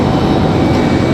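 Endeavor CRJ regional jet arriving from LaGuardia: a brief, loud, steady engine roar with no voices.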